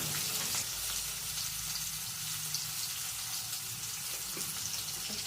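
Cumin seeds and turmeric roasting in hot oil in a pan, a continuous hissing sizzle at even loudness, close up and alone without voices.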